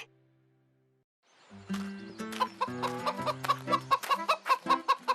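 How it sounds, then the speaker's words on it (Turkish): After a brief quiet, an animated cartoon hen clucks in a rapid, steady series of short notes, close and moderately loud, alone with no talking. "Civciv annesi."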